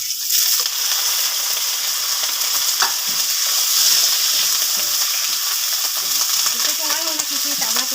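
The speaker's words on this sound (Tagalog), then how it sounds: "Yung bawang at saka sibuyas. Lalagay na agad natin yung chicken." Chicken frying in a pan with garlic and onion sizzles steadily and loudly throughout, with occasional stirring clinks and scrapes near the end.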